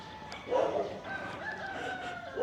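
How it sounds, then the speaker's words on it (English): Roosters crowing outdoors during an early-morning walk through a residential neighborhood in Quezon City, Philippines, with a couple of drawn-out crows at moderate distance over soft ambient background. "Hearing the roosters."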